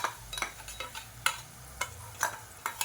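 Onions with ginger-garlic and small-onion paste sautéing in a pan, a faint low sizzle broken by sharp, regular scrapes of a spoon stirring against the pan, with no voices.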